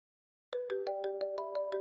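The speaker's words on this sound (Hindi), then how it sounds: "नहीं, किसी और का फोन आ गया।" A phone rings with a bright electronic ringtone of quick repeated chirping notes, starting after half a second of silence and continuing at moderate volume with no talking.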